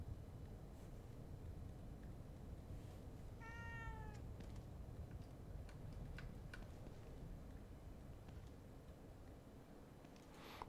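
A cat gives a single short meow in the survival horror game The Evil Within 2, heard faintly over a quiet hiss with scattered soft ticks and taps.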